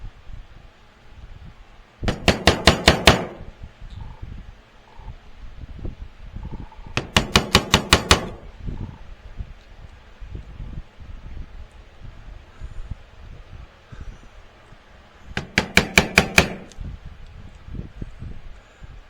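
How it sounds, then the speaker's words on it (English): Rapid bursts of hammer taps on a leather knife sheath, three separate volleys of about eight quick, sharp strikes each, close and loud, separated by quieter handling noise. "I should get a heavier hammer."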